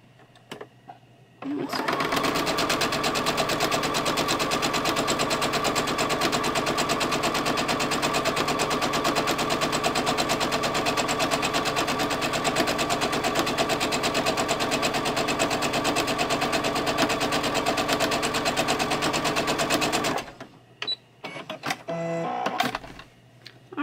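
A sewing machine runs steadily for nearly twenty seconds, stitching seams through layered quilt fabric for half square triangles, a loud continuous rapid whir that starts and stops abruptly, followed by a few faint handling clicks.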